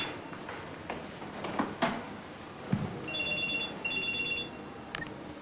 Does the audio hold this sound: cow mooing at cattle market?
no